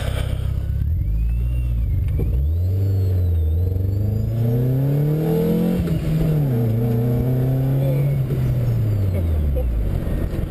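A plasticine-bodied car's engine runs with a misfire from a broken spark plug wire, a loud, close, uneven idle that rises and falls in pitch as it revs, with voices faintly in the background.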